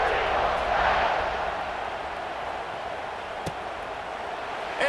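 Stadium crowd noise at a Auburn vs Ball State college football game in the College Football 26 video game, a steady broad roar that swells early and then holds at an even level, with no voices talking over it.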